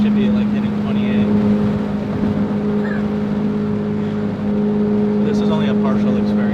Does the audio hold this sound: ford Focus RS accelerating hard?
yes